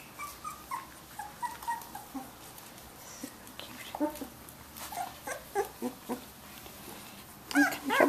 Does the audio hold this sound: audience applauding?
no